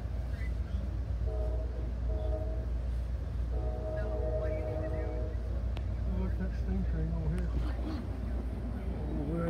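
The Heartland Flyer passenger train pulls out of Pauls Valley station in Oklahoma with a steady rolling rumble and several tonal horn blasts, heard from on board with voices in the background.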